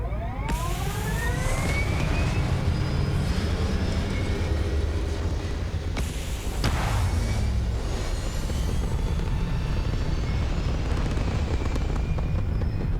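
A spaceship lifts off in the video game Starfield with a loud, continuous roaring thrust and a rising whine that swells again midway, filling the whole stretch with no voices.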